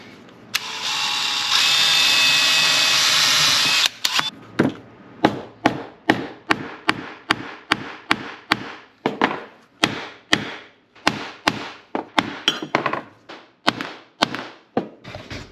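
A face hammer strikes metal pins to join them, a long series of sharp, loud, evenly spaced whacks following a few seconds of steady high whirring at the start.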